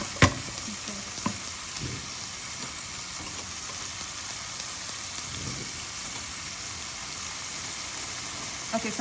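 Shrimp cook in a generous amount of butter in a pan, a steady close sizzle and spatter with occasional sharp pops and light utensil clicks, with no talking.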